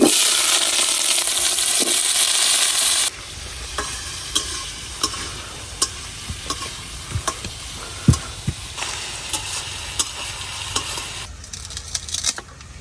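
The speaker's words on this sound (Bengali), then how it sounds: "এখন আমি যে আলুগুলা কাটে রাখছিলাম এই আলুগুলা একটু ভাজে নিলাম।" Cut potatoes fry in a pan of oil with a loud, dense sizzle that drops to a softer, crackling fry, broken by scattered clinks and scrapes of stirring.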